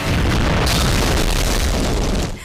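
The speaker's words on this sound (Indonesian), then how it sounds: "tiba-tiba tas itu meledak dan menghanguskan semua yang ada di sana" A loud, booming explosion of a bag in an Indian action film, with a dense roaring blast that fills the clip and fades out at the end.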